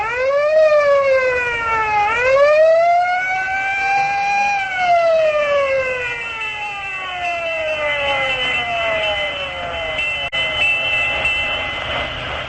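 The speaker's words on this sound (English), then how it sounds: "whenever you hear the siren and bell" A loud siren wails, rising, falling and rising again, then slowly winds down over a steady mechanical rumble at a 1936 baseball game broadcast; no distinct bell stands out.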